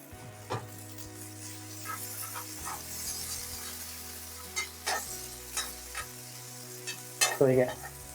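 Vegetable tandoori fries on a tava with ghee, giving a low, steady sizzle broken by scattered scrapes and stirring knocks, with a louder clatter of a utensil near the end.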